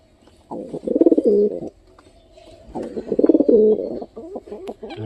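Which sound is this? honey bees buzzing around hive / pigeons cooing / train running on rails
pigeons cooing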